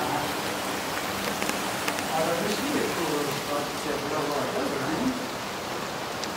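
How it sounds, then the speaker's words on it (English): Steady, dense rain pouring down in a continuous hiss near a building at the abandoned Letchworth Village, with a faint murmur of voices in the background. "Hopefully it's not long to rain."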